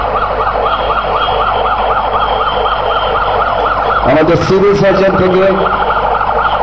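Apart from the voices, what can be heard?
ambulance siren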